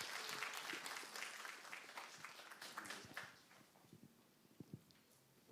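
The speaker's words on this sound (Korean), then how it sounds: "한 박수 부탁드립니다." An audience applauds to welcome a university president taking the podium for a special lecture. A dense round of clapping is loudest at first, then thins out to a few scattered claps and quiet.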